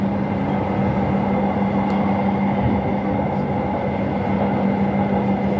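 A light rail train passes close by on the Kampung Rambutan to Dukuh Atas line in Jakarta, giving a steady loud rumble with a low hum and faint clatter throughout.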